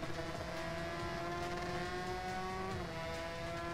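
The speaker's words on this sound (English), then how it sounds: "It sounds like a maxed out moped." Honda NSR motorcycle engine in the racing video game Ride 2, a steady high, buzzing two-stroke drone holding at one pitch with a slight rise near the end, moderately quiet and continuous with no talk.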